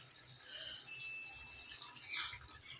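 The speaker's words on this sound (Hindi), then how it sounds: "गोटे कप पानी दे दूची।" Water poured from a cup into a pan of Hyderabadi chicken curry after frying, a steady splashing pour heard up close with no talking.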